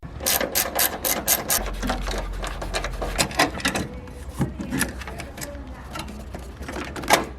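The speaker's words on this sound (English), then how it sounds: "I'm going to use a deep 12 mil socket to get to these bolts here, so we're just going to remove these two." A ratchet with a deep 12 mm socket loosens bolts on a Mazda Miata brake master cylinder brace, producing bursts of rapid, close metallic clicking with short pauses between strokes and a louder clack near the end.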